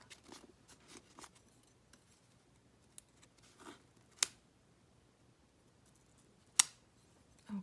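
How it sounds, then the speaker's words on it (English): Scissors snipping the binding threads of a vintage book, a few soft quiet clicks and snips scattered across a hushed room, with two sharper cuts standing out. "So you cut the threads."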